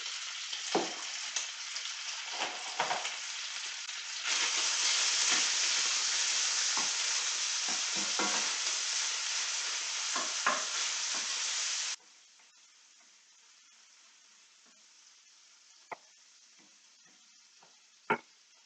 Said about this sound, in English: As my bacon's cooking